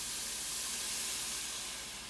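Broth poured into a hot pot of onions for lentil soup, a steady sizzling hiss that fades slightly toward the end.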